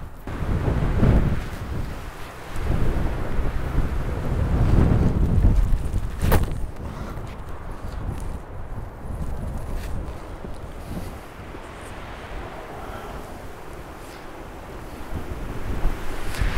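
Strong wind buffets the microphone on a disc golf course in Las Vegas, a loud, rumbling roar of gusts that swell and ease, with a sharp knock partway through and no talking.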